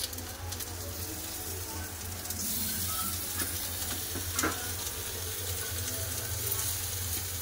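Onions added on top of fried bitter gourd in a pan, giving a steady low sizzle with a few clinks and stirring scrapes, quiet and continuous under a faint hum.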